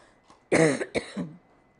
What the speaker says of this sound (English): Oh, I'm still coughing, excuse me.